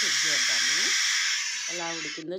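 Steam hisses hard and continuously out of a pressure cooker whistle being released after cooking carrot halwa, a loud close rushing jet that runs the whole time while a person talks over it.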